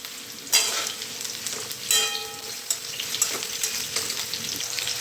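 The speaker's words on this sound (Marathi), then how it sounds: "असं फ्राय करून घ्यायचं आहे" Thin vegetable slices fry in a pan for a spice-masala dish, giving a steady broadband sizzle with occasional louder bursts of stirring and scraping, close and without talk.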